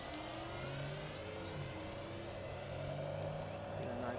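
An E-flite Air Tractor RC model airplane with takeoff flaps fully down drones steadily throughout, a continuous motor whine with slight pitch shifts under a broad wash of wind and background noise.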